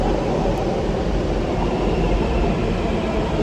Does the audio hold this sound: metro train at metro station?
yes